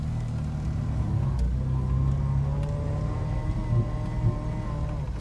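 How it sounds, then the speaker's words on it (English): A Jeep with a manual clutch accelerating on a short test drive, a steady mid-pitched engine drone with a gentle rise in revs, heard close from inside the vehicle without talking. "And now we just gotta go for a quick spin."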